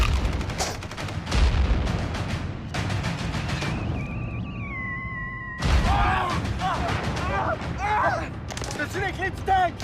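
Grenade blasts and gunfire effects in a comedic war sketch, with loud bursts of shots and booms, a whistling tone, and voices talking over the chaos.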